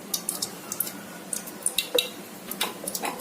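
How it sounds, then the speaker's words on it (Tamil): Homemade French fries fry in hot oil, with a soft crackling sizzle broken by scattered small pops and clinks from a utensil, moderately quiet and close with no talk. "மீத உள்ளதையும் இதே மாதிரி பொரிச்சு எடுத்துக்கலாங்க"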